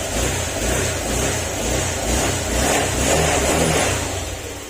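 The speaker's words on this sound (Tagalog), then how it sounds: "tahimik na yung makina niya" A Honda Click scooter engine with a bypassed wire running steadily close by and revving, with a smooth, even drone and slight swells in pitch, no rattle, no voices.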